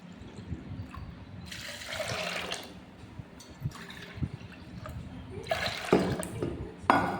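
Water poured from a bowl into a pressure cooker holding chana dal, a close splashing and trickling pour that swells and fades in several surges.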